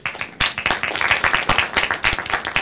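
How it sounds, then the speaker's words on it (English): A small audience claps for its group leaders, a quick patter of individual claps with no talk, close and moderately loud, lasting a few seconds. "let's give your leaders a round of applause"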